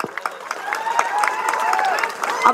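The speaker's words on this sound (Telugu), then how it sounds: "ఒకసారి 4 బతుకమ్మల వాళ్ళకి గట్టిగా చప్పట్లు కొట్టండి, గట్టిగా" An audience at a Bathukamma folk song gathering at Osmania University claps loudly and steadily, with crowd noise and a few raised voices mixed in, close and continuous.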